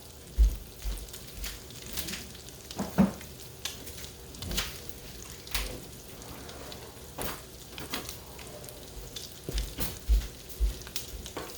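French toast frying in a pan, a soft continuous sizzle and crackle with scattered sharper pops and faint clatters of a spatula, close by and with no talking.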